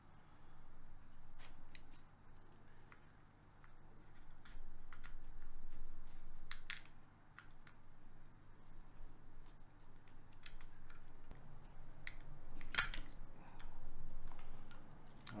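A scalpel trims the edges of soft material with small sharp ticks and scratchy cuts, spaced irregularly over a low background hum.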